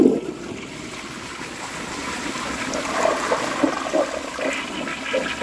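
A 1953 Crane Santon toilet flushes away a grocery bag, a loud close rush of water that swirls and gurgles steadily for several seconds before trickling down.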